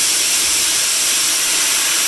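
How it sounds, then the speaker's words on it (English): A Coats 5030 tire machine's bead blaster fires a loud, continuous rush of compressed air to seat a tire bead, a steady close hiss filling the whole moment. "you're going to press the pedal all the way to the floor, which is going to bead blast it"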